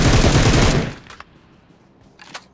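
Gunfire in the PUBG / BGMI battle royale video game, a loud rapid burst that cuts off after under a second, followed by a couple of fainter single shots.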